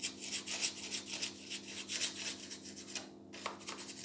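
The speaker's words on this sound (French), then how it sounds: "décoller la pâte des bords, comme ceci." A pastry scraper drags bread dough off the edges of a bowl in close, rhythmic rasping strokes, a steady series of soft scraping rubs with a brief pause near the end.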